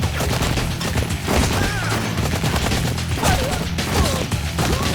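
Heavy, continuous gunfire in the Blue Estate shooter video game, rattling automatic bursts layered with crashes and impacts, loud and close with no let-up across the whole stretch.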